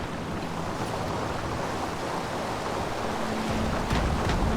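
Sea waves in a video game set on the Caribou Trail, with a continuous rushing surf and wind wash that stays steady and fairly loud throughout.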